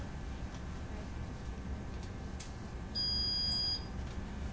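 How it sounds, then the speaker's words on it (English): A short, high electronic beep from a Relax 3 unit confirming remote programming sounds once, clear and steady for under a second, over a quiet background hum. "in a few seconds I'll hear a beep from the relax saying that it is programmed"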